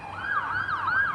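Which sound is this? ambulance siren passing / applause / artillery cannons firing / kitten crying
ambulance siren passing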